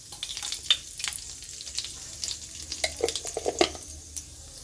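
Panch phoron and dried red chilies frying in hot oil in a kadai, giving a steady close sizzle with crackling pops and spatters throughout and no talking.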